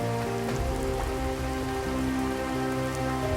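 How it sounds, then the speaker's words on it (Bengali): Heavy rain pours down just outside a park, a dense, steady hiss of drops on surfaces that holds constant throughout, with faint tonal sounds sitting underneath. "পার্ক থেকে বের হতে না হতেই প্রচুর পরিমাণে বৃষ্টি শুরু হয়েছে"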